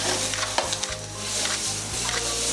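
Loud, steady sizzling of food deep-frying fast and hard in a hot pan at a cooking demonstration, with occasional stirring scrapes, close up and with no talking.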